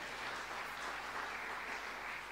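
A church congregation applauds during a sermon, a dense, even wash of many hands clapping, faint and distant, holding steady throughout.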